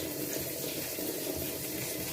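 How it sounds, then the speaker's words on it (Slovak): Water runs steadily from a tap into a sink, a continuous close hiss with no pauses and no talking. "Ja dám vodu,"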